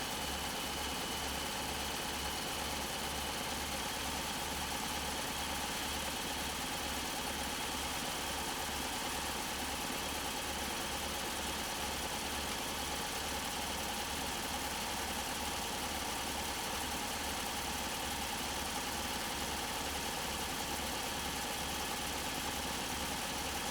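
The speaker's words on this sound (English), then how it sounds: "And obviously it's not sewing under a load right now, it's just sewing freely." A sewing machine motor runs freely through its foot controller without sewing under load, a steady low mechanical hum with a rapid regular throb, continuous and fairly quiet for the whole stretch.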